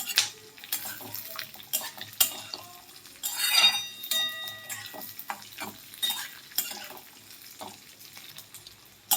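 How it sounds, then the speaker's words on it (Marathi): Masala spices roasting in oil for kharda chicken. A spoon scrapes and stirs them in the pan in irregular bursts of metallic clinks and soft sizzling, fairly quiet and close. "हा मसाला आपल्याला संपूर्ण असा तेलामध्ये भाजून घ्यायचा आहे"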